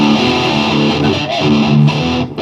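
A heavily distorted electric guitar plays a sustained, buzzing chord through a Neural DSP amp simulator plugin, loud and dense, with no voices.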